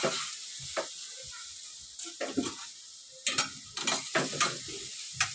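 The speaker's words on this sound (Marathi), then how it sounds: "भाजी टाकते आणि त्याच्यासोबत ही मुगाची डाळ आणि चांगलं डावून घेते" A spoon stirs shepu greens and moong dal in a hot pan, giving irregular scraping strokes in quick clusters over a soft sizzle, close and clear.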